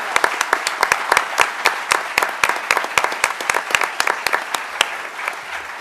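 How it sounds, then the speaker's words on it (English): An audience at an award ceremony breaks into warm applause for award winners, many hands clapping at once, sustained and fairly loud for several seconds before tapering slightly. "Let's give our wonderful award winners a round of applause."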